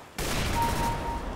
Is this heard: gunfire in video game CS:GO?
yes